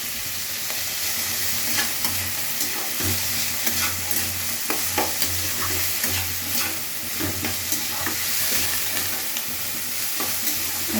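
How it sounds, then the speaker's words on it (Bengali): Fried rice frying and being stirred in a pan, a steady close sizzle with repeated scraping and stirring strokes throughout and no voices. "ভাজা ভাজা করে নিচ্ছি"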